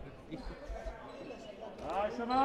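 A handball thuds against an indoor court floor a few times in slow rhythm as a player prepares a seven-metre penalty throw in a Serie A match, before a commentator's voice takes over.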